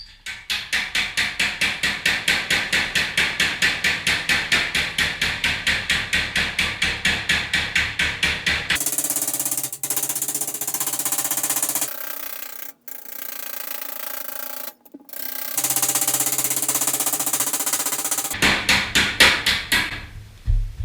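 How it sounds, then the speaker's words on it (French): A small, narrow round-faced hammer shapes sheet metal after welding in a steady run of rapid, ringing blows, then breaks off into other mechanical shop noise before the quick tapping resumes near the end. "Le marteau que j'utilise, c'est un petit marteau comme ça, regarde. Il est pas large, puis il est rond."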